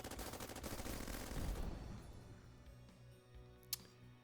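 Dense rapid gunfire from the video game Bionic Dues, a loud sustained burst of automatic shots that thins out into scattered fainter shots, with one sharp crack near the end.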